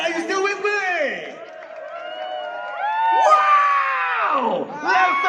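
A large outdoor crowd at KLCC in Malaysia cheers, screams and whoops loudly at a water fountain show, with voices rising and falling in swells and a host's voice mixed in.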